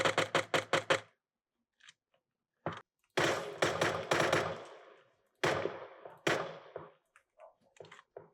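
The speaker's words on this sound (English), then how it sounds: "I'm reacting to the sound of gunshot because I can hear it coming out of my left ear." Video game gunfire cracks out in rapid clusters, a quick volley at the start, then several more rattling bursts and isolated shots separated by silence.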